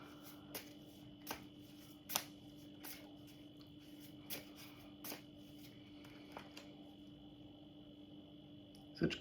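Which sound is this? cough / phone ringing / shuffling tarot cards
shuffling tarot cards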